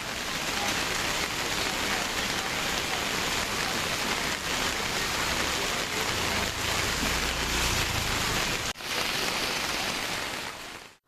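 Heavy rain pours at the Agni Theertham seashore in Rameswaram, a dense, constant hiss of downpour with a low wash of sea beneath, loud and unbroken apart from one brief dip near the end.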